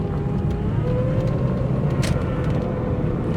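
The engine of a 1998 Pontiac Grand Prix GT runs badly, giving a loud, steady, rough rumble that drones on without a break and stays close throughout.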